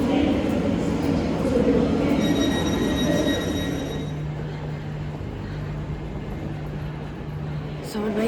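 A train hums and rumbles steadily inside St Pancras station, London, its droning tone under a broad wash of station ambience and crowd murmur.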